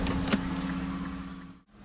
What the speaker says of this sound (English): Both windows are automatic.